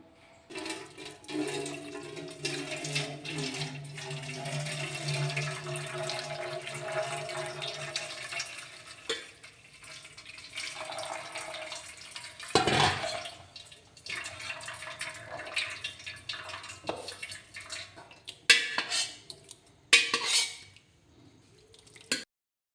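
Cold water is poured over fresh homemade paneer, curdled from churned buttermilk, to rinse it: a running, splashing stream that comes in several bursts, with drips and gurgles between them and no talk.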